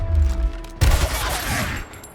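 Gunfire in Gears Tactics as a soldier shoots an enemy: a sudden loud shot crack after a low rumbling lead-in, followed by a decaying, noisy tail.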